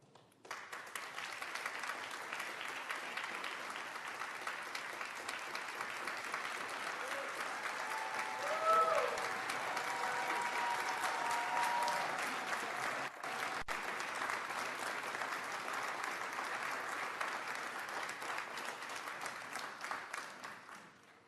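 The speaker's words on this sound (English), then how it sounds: "please, one last round of applause to welcome Wonder Woman to the United Nations family" An audience at the United Nations applauds in a long, sustained wave of clapping that fills the hall, with faint voices mixed in.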